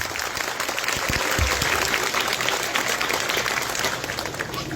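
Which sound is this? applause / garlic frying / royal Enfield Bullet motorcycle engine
applause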